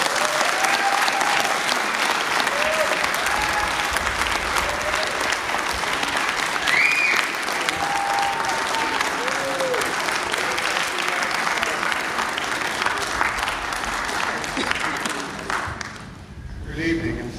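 Audience applause at a horror award ceremony, the Slaughter Awards at DarkFest, a dense sustained clapping that fills the room for most of the stretch before tapering off at the end.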